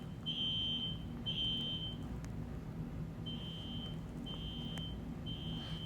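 A System Sensor Spectra Alert Classic fire alarm sounds a faint, steady high-pitched tone in repeated beeps of about a second each, with gaps between them, over a low background rumble.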